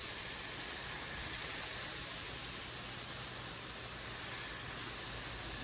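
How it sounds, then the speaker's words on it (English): Rinse water sprays steadily over an AC unit, washing off degreaser foam as a soft, even hiss with no talking. "I'm going to rinse it off."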